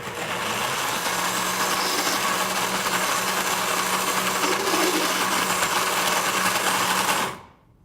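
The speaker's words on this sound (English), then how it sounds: "Just put the blender now on." Kitchen blender running steadily while mixing a nut butter mixture, a loud continuous whirring motor drone lasting several seconds before cutting off abruptly near the end, with no talking.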